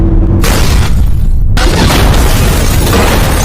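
Heavy, dense crash from a film scene as a car is rammed, with sustained loud booming impact noise and crunching debris filling the whole moment, close and overwhelming.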